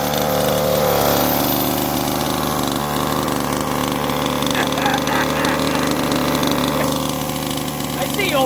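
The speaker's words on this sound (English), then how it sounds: "Here's just some exhaust notes." Exceed Barca 1/5 scale 4x4 RC car with a gas engine running steadily close by, a loud continuous buzzing exhaust note that holds nearly constant throughout with slight rises in pitch.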